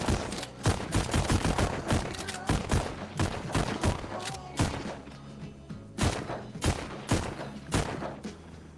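Rapid gunfire from a VR shooter game on Quest 2, dense bursts of repeated shots and bangs in quick succession, loud and busy throughout with no voices.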